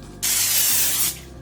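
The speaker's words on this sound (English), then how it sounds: "I'm going to spray it with a little bit of cooking spray." A single close cooking spray burst into a baking dish hisses loudly for about a second, then cuts off, leaving quiet room noise.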